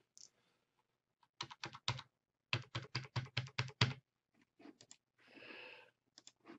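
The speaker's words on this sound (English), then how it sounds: "simply type in your 10-digit PeopleSoft user ID." Someone types a ten-digit user ID on a computer keyboard, producing crisp, close keystrokes in quick bursts separated by short pauses, followed by a brief soft rustle and a few last taps.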